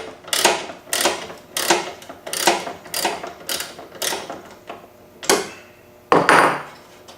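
A stiff lock nut on a lawnmower wheel adjuster is loosened with a ratcheting tool, producing a steady run of sharp mechanical clicks about twice per second, close and loud, with a final heavier rasp.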